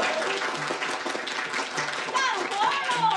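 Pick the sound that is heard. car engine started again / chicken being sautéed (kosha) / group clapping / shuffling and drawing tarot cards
group clapping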